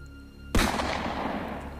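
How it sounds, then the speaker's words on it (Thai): A single sharp gunshot from a Thai radio-drama sound effect fires at a tiger; the loud, close crack hits abruptly and leaves a long rumbling decay, with no voices over it. "สิ้นเสียงปืน เสือร้ายก็นอนงายแน่นิ่งไปทันที"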